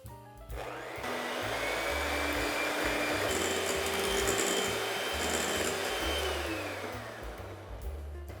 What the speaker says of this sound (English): I've got some sugar and eggs, and I'm going to whisk these up together. It's going to take about 5 to 6 minutes because I'm using a hand mixer.